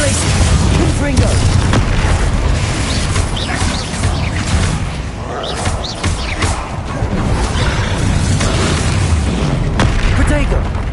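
Spell explosions from Confringo and Bombarda in the Hogwarts Legacy video game, a dense, continuous wash of booms and crashing blasts that stays loud throughout.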